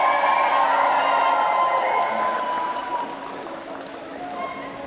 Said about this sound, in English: look for your friends and your family, graduates, okay? Go wave to them, find them if you can, wave to them and cheer